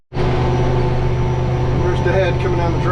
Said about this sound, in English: coming down the driveway on his tractor with a sprayer